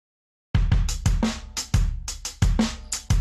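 A drum loop played rigidly without any groove: punchy kick and snare hits with crisp cymbal or hi-hat splashes land in a stiff, mechanical pattern after a short silence.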